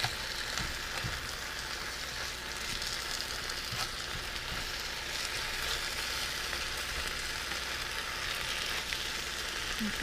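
Spinach sautéing in a cast iron skillet gives a steady, close sizzle that holds at an even level throughout, with no talking.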